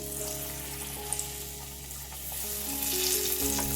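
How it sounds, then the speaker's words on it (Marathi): Potato bhaji fritters deep-frying in hot oil, giving a dense, continuous bubbling sizzle with a steady low hum running underneath, close and alone with no talking. "आता आपण इथे भजी तळून घेऊया"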